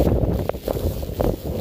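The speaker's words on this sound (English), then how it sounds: "We're having big gusts of rain." Gusts of wind and rain sweep over flooding streets during a storm, a steady blustery rumble with brief surges of noise and no talk.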